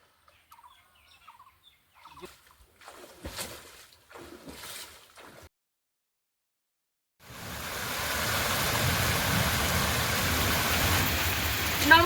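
Rain over a Bengal village arrives after a quiet stretch of faint, scattered noises, then pours as a loud, dense, steady wash that continues to the end.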